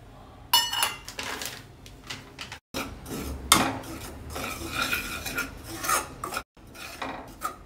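A spoon stirs and scrapes ragi flour roasting in ghee in a metal pan, with continuous close rasping strokes and small clinks, broken by two brief silent gaps.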